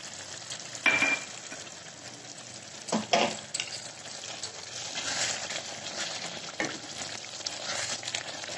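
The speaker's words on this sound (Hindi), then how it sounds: "ये देखिए ये मसाले हमारे भून रहे हैं।" Spices and fenugreek fry in a hot pan with a steady sizzle, while a spoon scrapes and stirs in several distinct strokes, close up and without talk.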